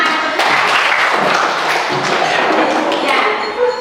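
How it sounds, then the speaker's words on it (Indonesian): Children in a classroom clap their hands together in a dense, lively burst of claps lasting a few seconds, loud and close, with some voices mixed in. "Tepuk tangan."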